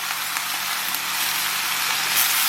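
Tomatoes hitting a hot pan of translucent softened onions for French tomato sauce, giving a steady, even hiss of sizzling that holds at a constant level with no talking over it.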